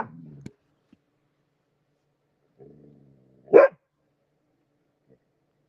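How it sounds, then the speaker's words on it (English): A dog named Lucifer gives a single loud, sharp bark after a stretch of near silence, with a few faint low sounds before it, close to the microphone. "no barking at people. Shush. Lucifer."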